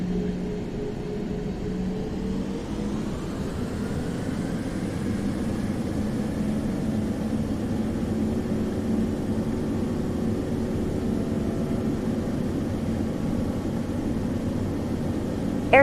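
Airplane engines spool up and hold a steady, loud roar during the takeoff roll on runway 25 on a late flight to Salt Lake, with a rising tone early on and a continuous broadband rush throughout.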